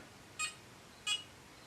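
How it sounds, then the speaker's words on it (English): Two short, clean electronic beeps from a Tria 4x hair removal laser, spaced about two-thirds of a second apart, close and clear against a quiet background. "So you're going to hear a beep and you're going to see this light up."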